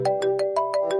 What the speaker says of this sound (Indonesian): Diem, ada yang telepon.